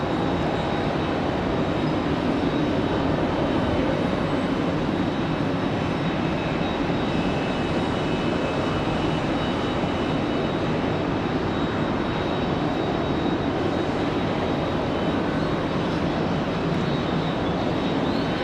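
A Delta jet at Raleigh-Durham International Airport readies for departure, its engines giving a steady, broadband roar and hiss that holds constant and moderately loud throughout, with no talk over it.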